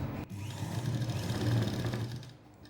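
A sewing machine runs for a short burst while stitching the round neckline of a blouse, giving a close, steady whirring hum that rises slightly, then tails off at the end.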